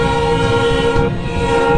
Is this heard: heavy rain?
no